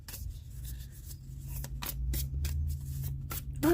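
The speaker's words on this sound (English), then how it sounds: "Let's try an overhand shuffle." An overhand shuffle of a sturdy tarot deck: a run of quick papery riffles and slides, each short burst of card rubbing close and clear over a low steady background hum, with no talking.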